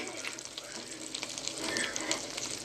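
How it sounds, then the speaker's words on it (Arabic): Meat sizzles steadily in a hot pan as its fat renders out, a dense, close, continuous crackling hiss with small pops rising slightly toward the end. "بصوا يا جماعه، فضلنا نشوح فيها لحد ما الدهون اللي فيها نزلت اهي"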